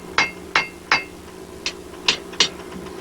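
Six sharp metallic hammer strikes ring out on an anvil while a blacksmith shapes flattened steel into a circle, spaced irregularly with quick decays and a low background hum.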